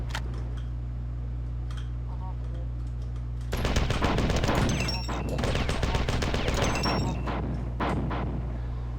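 Rapid assault rifle fire bursts out in the video game Marathon 2, a dense rattle of shots over a low steady hum, loud and close, with a voice talking briefly.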